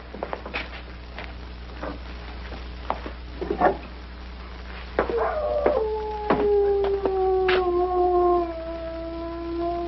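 A tied dog howls at night, a long drawn-out wail rising and sliding down in pitch, moderately near, after a stretch of quiet scuffling and faint background noise.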